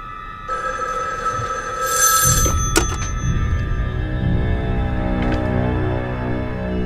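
An old-style telephone bell rings loudly in a home, a sustained metallic ring with a brief clatter as the receiver is picked up, followed by a steady line tone.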